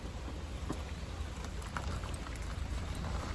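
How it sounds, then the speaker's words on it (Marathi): Heavy rain coming down hard in a village, a dense, steady hiss of drops with scattered sharper spatters, constant and moderately loud, with no speech. "अशा प्रकारे जोरात पाऊस आहे"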